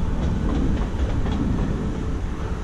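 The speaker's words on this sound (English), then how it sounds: "You can probably hear it in the background, a train going past" A steady low rumble with faint rhythmic clacking, like a train rolling past some distance away, continuous and fairly even in loudness.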